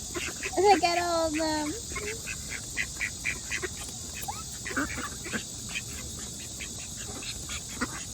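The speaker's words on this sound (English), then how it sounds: "Wow, there's more ducks." Ducks at a nature pond quack in a short, near burst early on, then fall to scattered softer calls, while a person talks excitedly over them.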